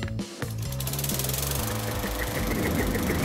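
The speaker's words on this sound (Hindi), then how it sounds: "इंजन बंद करो।" An engine runs steadily throughout, a loud, dense mechanical drone with a rattling, knocking texture and no talking over it.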